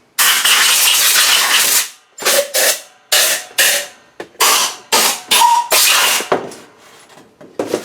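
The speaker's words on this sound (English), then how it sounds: "blow this out with air" Compressed air blasts through a part from a 2007 Chevy 5.3 V8 engine rebuild in a workshop: one long hissing burst of about two seconds, then a quick series of short, sharp loud puffs, close up.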